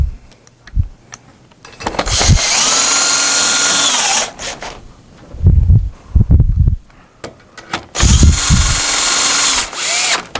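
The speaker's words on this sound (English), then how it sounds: "So take a longer Phillips and we'll snug all 3 of those in." Power drill with a long Phillips bit snugging in three screws, heard as two loud sustained whirring runs of about two seconds each, with short clicks and bumps between and around them.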